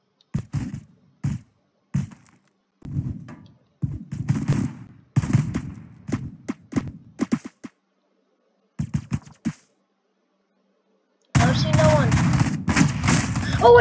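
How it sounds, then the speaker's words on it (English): Gunfire in the Roblox game Phantom Forces: several short bursts of shots separated by silent gaps, ending in a longer, denser stretch of firing, close and fairly loud. "I'm being shot at"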